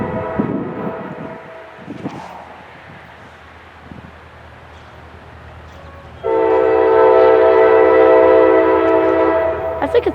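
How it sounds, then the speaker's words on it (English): CSX local freight train passing at Point of Rocks, Maryland, on track 4: a low rumble at first, then a loud, sustained horn blast starting about six seconds in and holding to the end. "CSX train in Point of Rocks"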